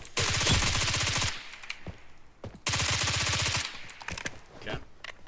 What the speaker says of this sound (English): I like how this gun shoots really fast